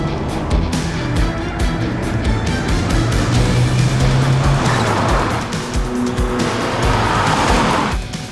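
A car engine revs hard as the vehicle speeds along, with tires squealing through a sharp turn.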